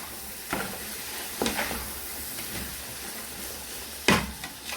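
Fried rice ingredients with beef stock cube fry in a pan with a steady low sizzle, broken by a few sharp stirring scrapes and clatters of the utensil against the pan.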